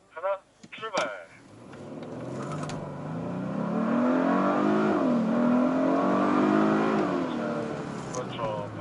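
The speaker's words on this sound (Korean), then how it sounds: "이제 뭐 제로백, 그러니까 정지 상태에서 속도 100km까지 테스트하는." A Hyundai Sonata N Line launches from a standstill toward 100 km/h on a circuit; after a brief voice, the engine swells into a loud, rising roar with audible shift dips, then eases.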